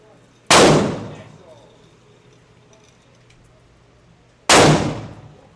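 Two sharp, loud gunshots from a Draco pistol at an outdoor target range, spaced about four seconds apart, each with a ringing decay and quiet between.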